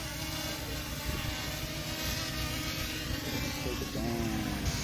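A small HS720E drone hovers over water on a windy day, its steady rotor whine running continuously under loud wind buffeting and brief voices.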